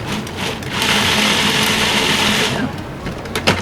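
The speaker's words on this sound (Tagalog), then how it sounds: "I-blend na natin ito. Mabilis lang to. Pulse lang to." A blender pulses pesto sauce in a home kitchen, a steady whirring grind that runs for a couple of seconds, then drops off into quieter clatter.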